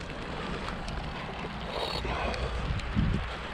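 Wind blows steadily outdoors on a job site, buffeting the microphone with a low continuous roar that swells slightly toward the end.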